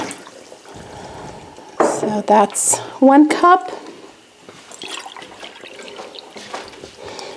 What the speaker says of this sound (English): what I will do before I add anything else is I add in my water, and I'm just measuring it here